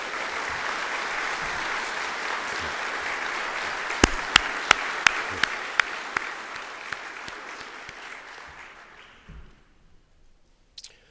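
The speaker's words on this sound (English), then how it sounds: "show our gratitude for your leadership with a round of applause" A conference audience applauds its board members at an association's opening session, a dense steady clapping that carries on for several seconds, joined by a few louder sharp claps, then thins and fades out.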